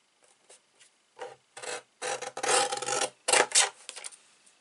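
Paper being trimmed for a vintage baby girl scrapbook album, a series of short rasping cutting strokes that grow longer and louder partway through, close up with no talking.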